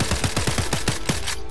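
Rapid automatic AK rifle fire in the video game Blade & Sorcery, about nine close, loud shots in an even burst before cutting off.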